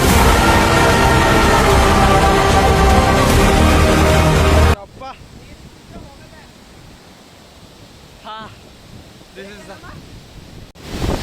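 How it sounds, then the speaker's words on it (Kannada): Strong wind sweeps across a trekking spot by a hidden waterfall, a loud roaring gust buffeting the microphone for several seconds before dropping to a softer rush with a few brief voices. "ಬರ್ತಾ ಬರ್ತಾ ಗಾಳಿ ಸಿಕ್ಕಾಪಟ್ಟೆ ಆಗ್ತಾ ಇದೆ"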